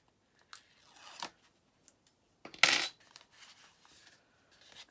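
Backing tape peeling off a paper gift box mini album, with faint crinkles and a short tearing rip in the middle, close and quiet with no talking.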